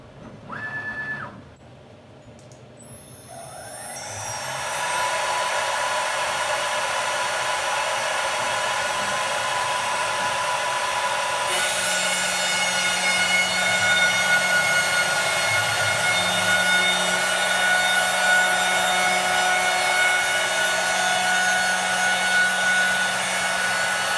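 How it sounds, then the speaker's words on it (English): An Avid CNC Pro4848 machine drills its first hole, giving a loud, sustained high-pitched spindle whine that builds up over several seconds and then holds steady with a changing low drone underneath. "now we'll go ahead and drill our first hole with this machine."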